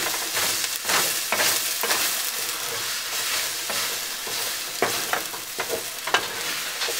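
Egg white and bell pepper scramble sizzling steadily in a pan while being folded, with a constant hiss broken by soft scraping stirs and occasional small pops.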